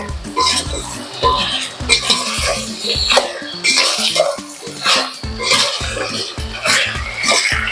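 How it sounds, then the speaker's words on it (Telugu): Eggplant pieces being stirred in a frying pan, with a spoon scraping and clinking against the metal in a steady, repeated rhythm of fairly loud, close strokes. "ఒకసారి మళ్ళా తిప్పుకుని ఇప్పుడు వంకాయ ముక్కలను యాడ్ చేసుకుందాం."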